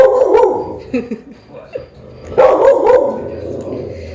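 A dog gives loud, close barks and yips, with a quieter whimper between bursts and a strong double bark near the end.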